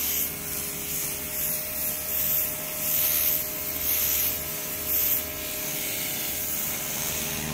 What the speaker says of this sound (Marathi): बघा या ठिकाणी चिखल किती छान प्रकारे क्लीन केला जातोय रस्ता.